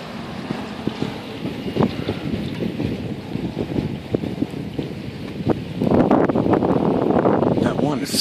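Strong storm wind buffets the microphone in gusty roaring surges, growing louder toward the end, with a person talking underneath.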